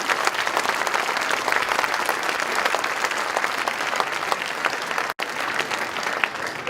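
Audience at a political rally breaking into sustained, loud applause, a dense wash of many hands clapping that holds steady, with one short dropout near the end.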